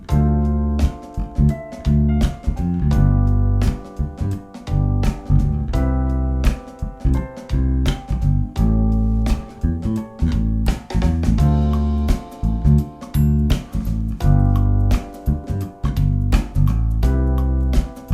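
A bass guitar plucks a steady run of deep notes in a walking rhythm, played alone.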